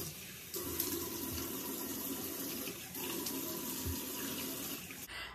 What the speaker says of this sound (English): now I'm going to wet my face with just regular water just to get some of the excess oil off